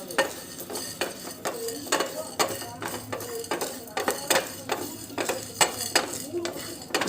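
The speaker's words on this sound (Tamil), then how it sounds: "ஜீரகம், சோம்பு எல்லாத்தையும் போட்டுருங்க. போட்டு லைட்டாக இப்படி வறுத்துருங்க." Cumin and fennel seeds dry-roasting in a pan for chicken chukka, a series of regular scraping stirs with light rattling and a soft crackle, close and steady.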